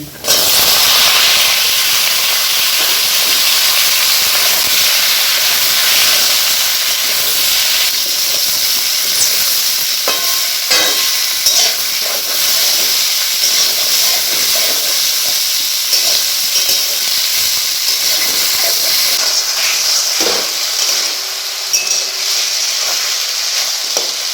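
Chopped ridge gourd fries in a pan over a medium gas flame, producing a loud, close, continuous hissing sizzle with steamy crackle and occasional light clicks of stirring throughout.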